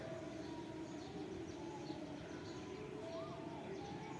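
Early-morning birdsong from a rooftop, with faint chirps and cooing calls over a steady, dense background hum of distant traffic or machinery, no clear nearby singer.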